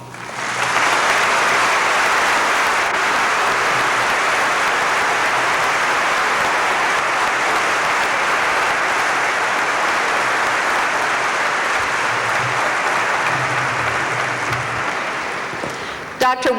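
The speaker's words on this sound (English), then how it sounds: "that very warm applause says it all" Warm, sustained applause from a commencement audience at Kent State after Dr. Wood's speech, a dense steady roar of clapping lasting about fifteen seconds before tapering off near the end.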